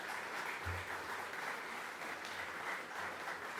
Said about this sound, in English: So a round of applause please for all our local winners